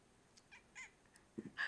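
A cat gives a few faint, thin meows, with a brief, louder call near the end, against a quiet background.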